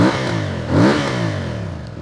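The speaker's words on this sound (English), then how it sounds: "Then you rev it up here, look." A CFMOTO 450 CL-C motorcycle with stock exhaust revs up sharply, its pitch rising and falling in a loud burst before settling back to a steady run.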